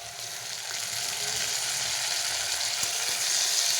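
Tomatoes hit hot oil in a pan while cooking potato posto with ghee, a loud, steady sizzle that builds and keeps going close up, with no talking.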